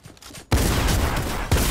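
Gunfire in the video game Fortnite: a sudden loud, dense burst of rapid shots that continues for over a second, with a fresh blast near the end.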